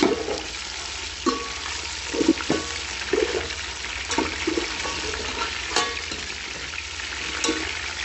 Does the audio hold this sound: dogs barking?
no